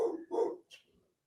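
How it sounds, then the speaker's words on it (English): Pet dogs indoors kick off with two quick, fairly close barks followed by a shorter yelp, then fall quiet, with no talk over them. "Sorry, my dogs are kicking off."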